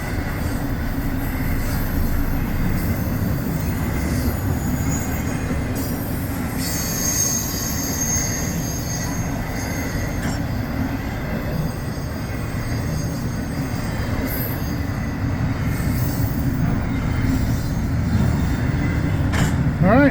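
A westbound Norfolk Southern intermodal freight train hauls heavily loaded containers past at close range, a loud continuous rumble of rolling wagons with wheel squeal and rail clatter that persists throughout, with some talking.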